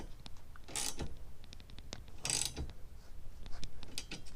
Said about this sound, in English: we'll go ahead and tighten this down and get it nice and tight so it doesn't strip out